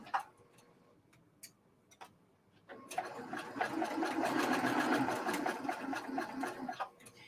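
A sewing machine stitches quilt block seams in a steady, fast run of needle ticks, starting after a few soft clicks and running for about four seconds before stopping, close and moderately loud with no talking.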